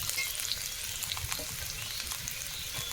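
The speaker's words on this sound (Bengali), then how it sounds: "দিয়ে ভালো করে মিশিয়ে নেব।" Fresh green chilies fry and get stirred in a hot pan, giving a dense, steady sizzle with scraping of the spoon running throughout, close and fairly loud, with no voices.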